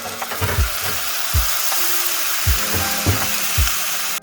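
Diced tomato paste sizzles as it hits frying onion paste with ginger and garlic for a spicy chickpea curry, a steady close hiss broken by several soft stirring knocks.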